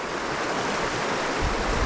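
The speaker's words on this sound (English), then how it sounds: "I'll just point my camera at the water and let you listen to the water" River water flowing steadily nearby, a continuous full rushing wash with no pauses and no voices over it.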